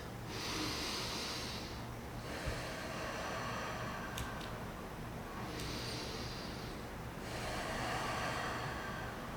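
Slow, deep yoga breaths held during a lunge in a beginner session: long, soft airy inhales and exhales that rise and fall in a steady rhythm over a constant low fan-like hum, with no talking.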